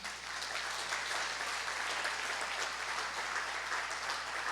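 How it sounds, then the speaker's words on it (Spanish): A church congregation applauds during a family service, a steady, fairly faint wash of many hands clapping throughout with no voices standing out. "Dele un aplauso al Señor."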